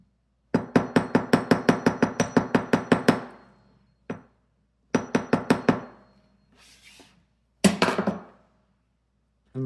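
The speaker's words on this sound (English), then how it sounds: "Okay, hammer." A hammer taps metal in fast bursts of evenly spaced, ringing strikes, about a dozen per run, separated by short pauses and a single isolated blow.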